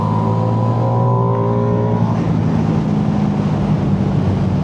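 Ducati Streetfighter V2 motorcycle engine pulling hard under acceleration, a loud, close, steady roar with rising harmonic tones early on that merge into a dense, continuous drone.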